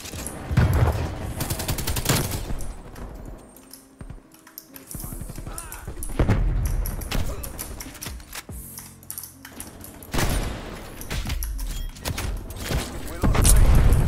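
Light machine gun suppressive fire in Call of Duty Cold War comes in long rapid bursts separated by brief lulls, with other gunfire mixed in and a voice talking over the action.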